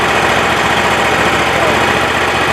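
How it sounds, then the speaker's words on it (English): A Kohler engine on a Wood-Mizer LT35 sawmill runs after a tune-up, a loud, close, steady mechanical drone with a rapid low pulsing, constant in level. "The engine barely rolled over"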